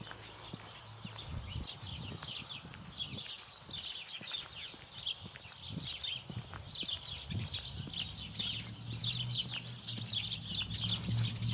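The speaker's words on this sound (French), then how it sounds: "je sais pas si vous entendez tous les oiseaux" Birds chirp and sing continuously outdoors in the countryside, fairly faint, with occasional soft footstep-like knocks and light background noise.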